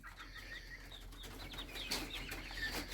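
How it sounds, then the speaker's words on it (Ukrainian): Naked neck hens and a few roosters in a barn, soft overlapping clucks and chirps with a burst of wing flapping near the end, fairly close and moderate in level. "Є півники, але буде більш курочок."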